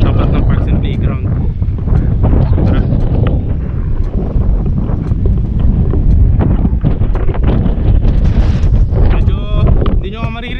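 Gusty wind pounds the microphone in Tagaytay with a deep, continuous rumble, and a voice is partly audible underneath.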